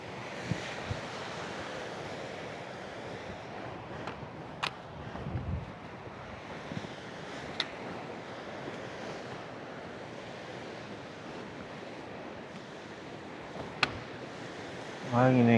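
Steady strong wind roaring and buffeting the microphone at 4,130 m altitude in Nepal's Annapurna region, with surf-like rushing throughout and a few faint knocks.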